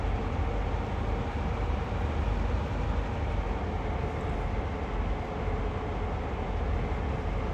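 A passenger train in the Train Sim World game, on the Northeast Corridor near New York, rolls steadily along with a constant low rumble and wheel noise, unbroken and without voices.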